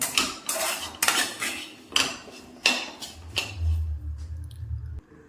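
Onion masala is stirred in a pan for cooker chicken, with a run of loud metallic clanks and scrapes from the spoon against the pan, followed by a low steady hum near the end.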